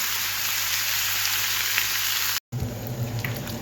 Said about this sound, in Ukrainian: На великому огні зараз гарно його обсмажу.